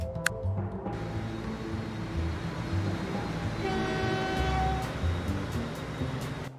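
A train runs in the video game Transport Fever 2, with a rumbling rolling drone, rhythmic clatter, and a sustained horn-like tone sounding midway, heard alone without speech.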